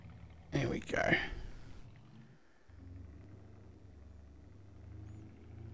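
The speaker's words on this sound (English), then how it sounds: "I do like this truck. It's nice. It's not even very loud inside." A truck engine in Farming Simulator 22 drives with a steady low rumble heard from inside the cab, after a brief louder burst near the start.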